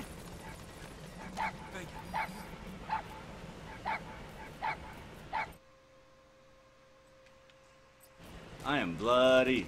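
A puppy in the Metal Gear Solid V video game gives a string of regular, evenly spaced sharp yips and barks, then falls quiet before whimpering, with a voice talking over it.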